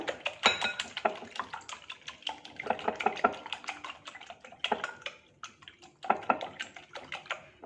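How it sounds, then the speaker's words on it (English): Eggs being whisked in a bowl for a frittata with coconut flour: quick, irregular clinking and tapping strokes against the bowl, close and fairly quiet, coming in bursts with short pauses between them. "We'll just crack the yolks here. Whisk it a little."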